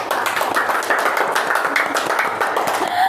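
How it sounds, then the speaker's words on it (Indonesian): A crowd applauds, a dense patter of many hands clapping steadily and evenly for a few seconds, with no voices. "Tepuk tangan sekali lagi untuk Kak Zaneta."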